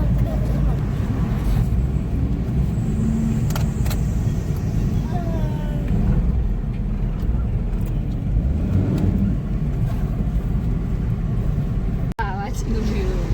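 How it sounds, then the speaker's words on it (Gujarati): Steady road traffic of luxury buses, small cars and motorbikes queued toward the Galteshwar river bridge, a continuous dense engine rumble with passing vehicles and faint background voices throughout. "લક્ઝરીઓ, નાની ગાડીઓ,"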